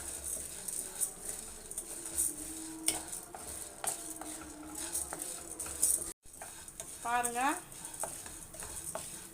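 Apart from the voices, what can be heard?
dry roasting idli podi ingredients in a pan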